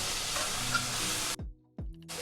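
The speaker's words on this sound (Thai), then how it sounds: "กระทะร้อนแล้ว ผัดเนื้อเลยค่ะ" Loud, steady sizzling of marinated beef stir-frying in a hot pan over medium heat, with a brief break where the sizzle cuts out before resuming.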